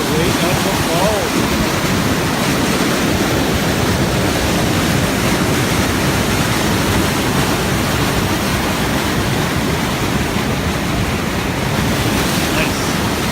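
Crescent Falls in Alberta roars up close, a dense, constant wash of falling water that stays loud and even throughout.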